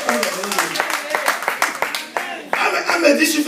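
A church congregation claps and cheers for God, a quick burst of scattered hand claps mixed with voices calling out and chuckling, lively and close, rising slightly toward the end.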